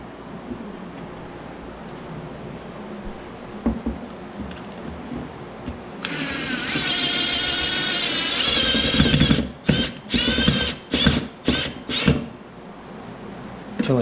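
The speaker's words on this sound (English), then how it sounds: "I'm going to put the screw through the hole that we drilled" A power drill driving a screw through a pre-drilled hole in wood, part of building a table saw workstation: a steady whine for several seconds, then a series of short bursts as the screw is driven home.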